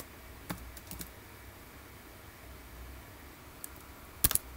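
Computer keyboard typing, a few sparse soft keystrokes followed by a quick cluster of louder clicks near the end, over faint room hiss.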